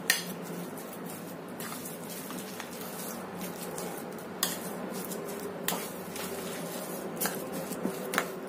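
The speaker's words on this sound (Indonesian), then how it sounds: "Kita aduk sampai tercampur rata semuanya." A utensil stirs and scrapes potato and tapioca batter inside a bowl close by, producing soft wet squishing with occasional sharper clinks against the side.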